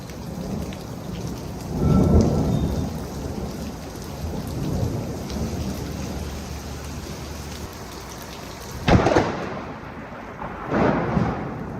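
Heavy rain pours steadily and loudly, with a couple of sharp close thunder cracks and a later rumble rising through the downpour.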